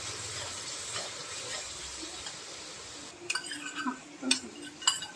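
Onion and garlic paste sautés in a pan for a Bengali chicken white gravy. A faint, quiet hiss comes first, then several scraping clinks as a utensil stirs the paste against the pan.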